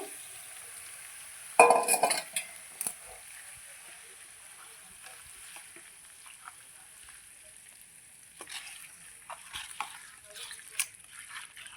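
Tempering oil is stirred into gongura pickle, making a brief burst of sizzling and clinking early on and then softer intermittent stirring scrapes and ticks, faint and close.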